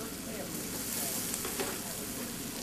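Steak and onions frying together in a pan, with a steady close sizzle and faint crackle throughout and no talk.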